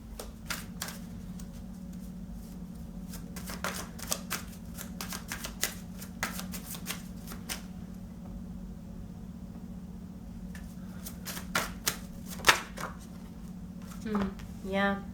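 Tarot cards shuffled and drawn in a quick series of dry riffling and slapping flicks over a steady low hum, with a brief burst near the end.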